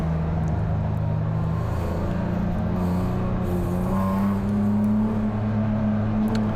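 A BMW E46 Spec race car roars down the straight at Willow Springs under hard acceleration, a loud, steady engine drone heard close from inside the car with no talk.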